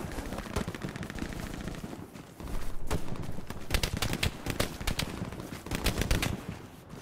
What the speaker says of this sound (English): Oh, we're getting shot at.